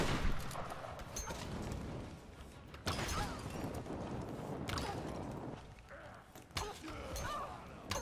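Sharp bursts of gunfire in Tomb Raider (2013) crack out at irregular intervals, with a few heavier blasts among lighter shots over a busy background.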